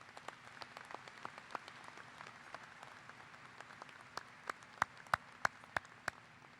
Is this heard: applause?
yes